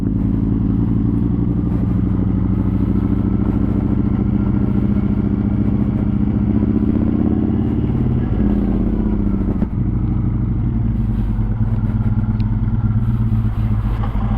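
A Yamaha MT-01 motorcycle with an Akrapovic exhaust idles and rumbles steadily with a deep, bassy exhaust throb, close and loud throughout.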